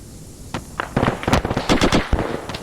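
Mortar fire in ArmA 3 during a platoon attack: a quick irregular series of sharp booms and cracks, several overlapping, loud and near, with no talk over them.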